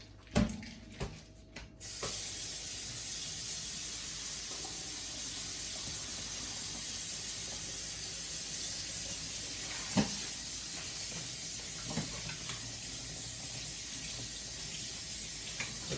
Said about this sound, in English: So give it a good rinse.